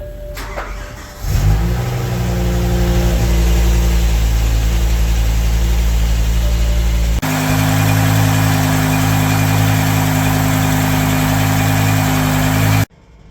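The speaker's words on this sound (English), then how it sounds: "Now we're just going to start up, make sure everything runs good." A BMW M5 E60 engine cranks and fires after a thermostat replacement and coolant refill, settling into a loud, steady close-up idle that shifts tone partway through before cutting off abruptly.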